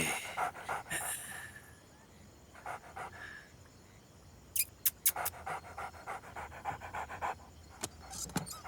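A dog pants rapidly and steadily up close, with a few sharp clicks and knocks scattered through the breathing and no barking.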